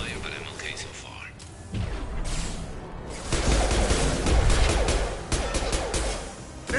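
A Mass Effect 2 firefight: scattered gunfire and thudding impacts build into a louder, denser volley, with a voice talking over part of it.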